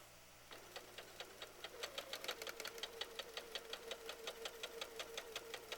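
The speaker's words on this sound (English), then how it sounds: "This way you can continually sew and not have to stop and start" A sewing machine runs continuously while a quilt block is stitched, its needle ticking in a fast, steady rhythm that starts softly and settles into even, close pulses, quiet and without talk.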